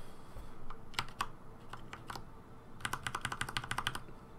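Computer keyboard keys are pressed in scattered clicks, then a quick run of rapid taps including the spacebar, close and crisp, with no talking.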